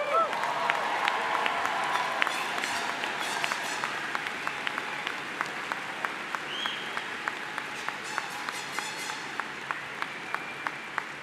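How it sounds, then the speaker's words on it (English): Sustained applause from a large outdoor crowd at a Denison University commencement for the class of 2024, a steady wash of clapping with scattered cheers that thins into a few distinct claps near the end. "can we give the great Denison class of 2024 one more round of applause?"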